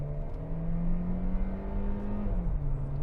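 A 2021 Hyundai Creta 1.4 turbo petrol compact SUV in sport mode revs, its engine hum rising steadily then dropping back, heard clearly from close by inside or near the vehicle.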